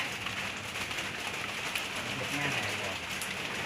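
Steady rain falls in an outdoor countryside setting under dark, overcast skies, a continuous even hiss of drops on surfaces with no clear breaks, while a few faint background sounds come and go.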